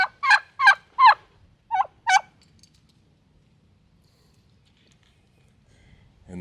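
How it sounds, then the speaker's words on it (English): A large wild turkey gobbles up close in a rapid series of six loud, warbling bursts, and then a quiet outdoor lull follows at a Missouri state park. "It's the closest I've ever been to a big turkey."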